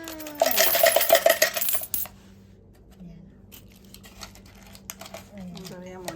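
A loud jangling cascade of coins spills out of a piggy bank for a second or two, then stops; a few faint clinks and rustles follow, with a voice speaking briefly.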